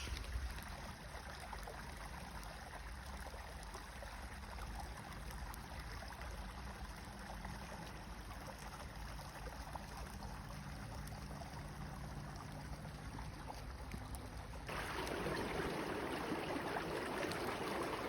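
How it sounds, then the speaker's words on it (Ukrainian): A stream in the Waterloopbos nature reserve in the Netherlands flows in a steady, full rush of water, close and continuous, growing louder and brighter near the end, with no voices. "слухати цю музику води я можу просто не враховуючи час"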